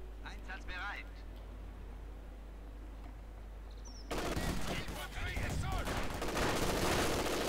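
MG42 machine gun fire in the real-time strategy game Company of Heroes 2 in a 1v1 match, rapid bursts and scattered gunshots that get louder and denser partway through, with a voice commentating over the battle.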